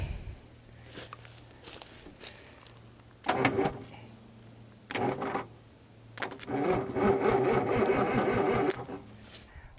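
An old bush recovery truck's starter motor cranks the engine in a few separate bursts, whirring and churning close by, with a low idle hum between attempts and a longer final crank.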